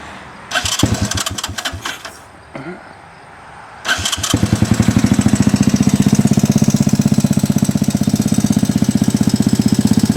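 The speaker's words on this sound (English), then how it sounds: "Well, let's go ahead and fire it up." A Trax2 dune buggy's Honda 200 engine cranks with a few sputtering false starts, then catches and settles into a loud, steady, rapid putter that runs continuously.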